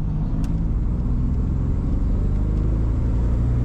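A 1989 Turbo Trans Am rolls along with its engine running, giving a steady, loud, low rumble from inside the car and no talking.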